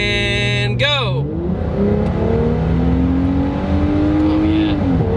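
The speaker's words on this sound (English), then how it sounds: "when you let off the gas, you get this awesome just like turbo noise" A twin turbo V6 Mustang engine drops from a high rev with a whistling turbo sweep, then builds again with a rising droning acceleration, loud and close from inside the car.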